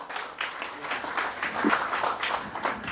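An audience at a Korean book launch event claps to welcome a former education minister as speaker, a dense, moderately distant patter of applause holding steady for a few seconds without a clear voice.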